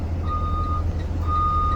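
A school bus backs up, sounding two evenly spaced electronic reversing beeps over a low, steady engine rumble close by.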